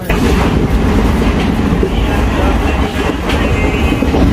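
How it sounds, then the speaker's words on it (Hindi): Passenger train rolling along at speed, its wagons giving a steady rumbling clatter of wheels over rail joints, heard from inside the carriage. "अल्हम्दुलिल्लाह हम ट्रेन पर चढ़ चुके हैं और निकल गए"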